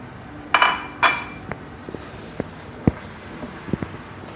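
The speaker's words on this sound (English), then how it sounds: "So it's boiling now, so I'm going to add the bacon and the mushrooms." Utensils clink and scrape against a pan as bacon and mushrooms go into a boiling chicken and mushroom carbonara sauce, with two louder rustling clatters at first, then scattered light knocks and taps close by.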